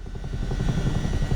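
A Chinook tandem-rotor helicopter holding a hover in Microsoft Flight Simulator, giving off a steady, loud rotor thump and engine drone that continues throughout with no talk.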